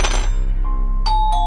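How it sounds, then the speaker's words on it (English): A doorbell rings with a soft thud followed by two bright chime tones, clear and fairly loud against a low steady hum, with no voices present. "The bell rang."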